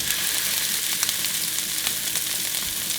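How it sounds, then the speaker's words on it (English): Ground turkey sears in a hot pan with vegetables, giving a steady, close sizzle and crackle of frying meat that runs the whole time without talk. "let's add the turkey. And we'll just drop it in, and then we'll let it sear on both sides"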